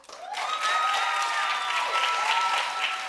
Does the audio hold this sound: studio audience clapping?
yes